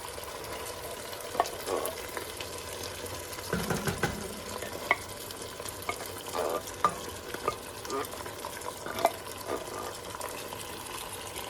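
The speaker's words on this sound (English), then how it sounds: "now we're going to add in a 15-ounce can of tomato sauce" A 15-ounce can of tomato sauce poured into melted butter in a pan, soft liquid gurgles and sizzling with clinks and scraping from stirring, close and moderately quiet.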